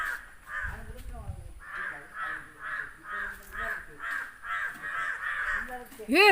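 Many crows caw repeatedly in a steady, overlapping chorus nearby, with a voice briefly audible underneath.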